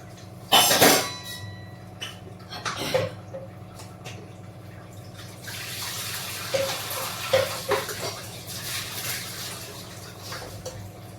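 Running tap water splashing while something is washed in plain water, with a sharp clatter near the start, irregular splashes and knocks, then a steadier flow toward the end.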